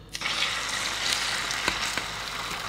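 Batter poured into a hot frying pan on a stove turned down to medium: a soft, continuous hiss and sizzle with a faint wet gush, quiet and close, with a few small crackles and no voices.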